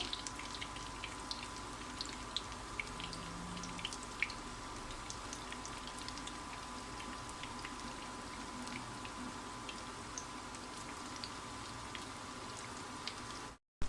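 Green pea cutlets frying in shallow oil in a home kitchen give a steady, soft crackle and spatter like light rain, continuous and fairly faint throughout, with no voices.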